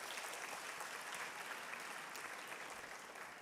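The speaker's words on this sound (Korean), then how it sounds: "여러분 하나님께 영광의 박수 올려드리겠습니다" Sustained applause from a church congregation during a Sunday young-adult worship service, a dense, steady wash of many hands clapping at even loudness throughout, tapering slightly at the end.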